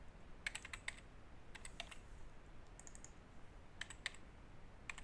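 Short bursts of computer-keyboard typing as a username and password are entered, quick clusters of key clicks separated by pauses, soft and close over a low background hiss.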